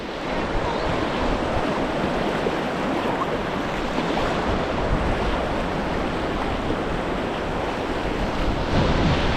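Kayaks pushing through rough waves on the River Spey, with steady loud rushing water and wind buffeting the microphone throughout, no voices.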